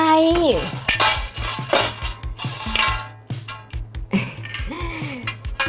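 A street food vendor scooping food with a metal ladle: close clinks and scrapes of metal on pots and utensils in an uneven rhythm, with short bursts of nearby voices mixed in.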